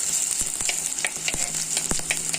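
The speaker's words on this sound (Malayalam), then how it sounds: "കറിവേപ്പില ചെറിയ ഉള്ളി വെളുത്തുള്ളി ഇഞ്ചി ഇത് നമുക്കൊന്ന് ഇളക്കി കൊടുക്കാം" Curry leaves, shallots, garlic and ginger fry in hot oil, giving a steady close sizzle while a spoon scrapes and stirs the pan in quick, regular strokes.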